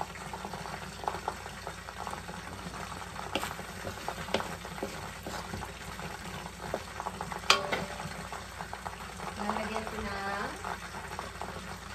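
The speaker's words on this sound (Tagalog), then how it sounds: "Maingay kasi nagpiprito ako ng chicken." Chicken frying in a pan while cooking Filipino pancit at home, a steady crackling sizzle with faint clinks running throughout the clip, with the cook's voice talking over it.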